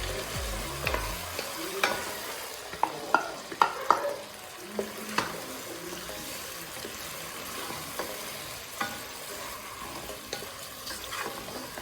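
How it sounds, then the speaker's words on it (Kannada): Half a kilo of pre-cooked mutton tossed into a pan with ginger garlic paste for nati-style green mutton biryani, giving soft sizzling and a run of sharp spoon scrapes and clanks as it is stirred, close and without talk. "ಅರ್ಧ kg ಮಟನ್ ಹಾಕ್ತಾ ಇದ್ದೀನಿ"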